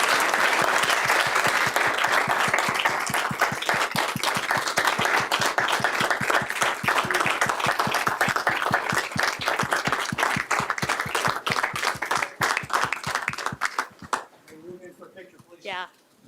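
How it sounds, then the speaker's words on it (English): An audience at a school board of education meeting applauds in a dense, sustained burst of many hands that stays loud for most of the stretch, then tapers off as voices come in near the end. "How about a round of applause?"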